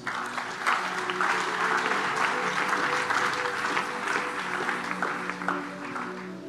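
A church congregation applauding loudly and steadily, a dense sustained clapping crowd sound that runs unbroken throughout.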